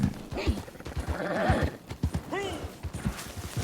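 Rhythmic hoof clip-clops with a horse whinny, game-like sound effects from Red Dead Online, under a voice talking.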